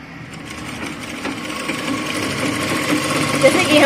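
A sewing machine runs a straight seam with a long, coarse stitch, giving a steady, continuous whirring hum that builds slightly in loudness over a few seconds, with a faint voice in the background.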